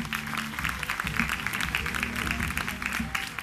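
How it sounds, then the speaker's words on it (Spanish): Loud audience applause at an exotic bird show, dense sustained clapping filling the whole clip with a faint murmur of voices and other sounds mixed underneath. "Aplauso fuerte."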